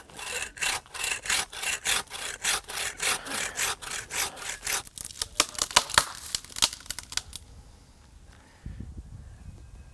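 A pruning saw cuts through a large tree limb with steady, rhythmic back-and-forth rasping strokes that speed up near the end, then stop, leaving quiet with a faint thud.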